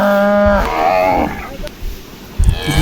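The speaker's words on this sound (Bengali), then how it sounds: "এটা হচ্ছে আমাদের ঘরের বাছুর।" A calf on a cattle farm in Cumilla, Bangladesh, gives one loud, close moo with a rising, drawn-out tone. Shuffling farm noise follows.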